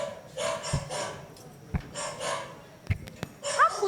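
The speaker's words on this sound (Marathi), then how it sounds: "हा कुत्रा का भुंकतो आहे बरं?" A dog barks several times in a Marathi musical stage play, sharp rhythmic barks at moderate distance mixed with snorting breaths, while a person talks nearby.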